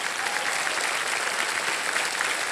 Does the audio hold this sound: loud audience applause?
yes